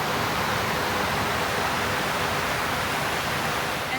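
West Creek, a mixed bedrock alluvial stream running over shale bedrock, flows with a steady, full rushing wash that stays constant throughout, with no voices.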